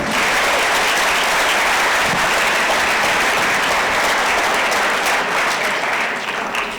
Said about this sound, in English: Can we give another warm round of applause to Ms. Pepper and Ms. Wolf?